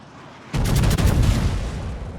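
A naval gun volley from a warship in a naval combat video game erupts suddenly into a loud, booming roar of salvo fire that rumbles on and slowly fades, with no talking.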